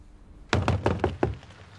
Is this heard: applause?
no